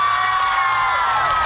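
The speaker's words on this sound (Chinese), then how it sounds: "来，掌声！" A studio talk-show audience keeps up a dense, continuous roar of cheering and applause, loud and sustained for the whole moment with no pauses.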